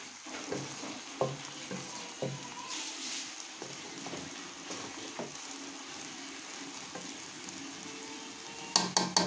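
Chicken shashlik pieces cook in a hot pan with steady sizzling and frying hiss, broken by occasional stirring scrapes and a few sharp clinks near the end.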